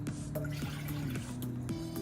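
Water poured into a bowl to start yeast for rosemary raisin buns, a continuous liquid trickle and fill with small splashy pulses, close and fairly quiet, with no talking.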